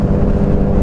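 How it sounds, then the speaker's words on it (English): A Triumph triple-cylinder motorcycle engine passing close during an open group ride, a brief loud steady drone with wind rush over it. "I think it's a Triumph. It sounds really good, that triple."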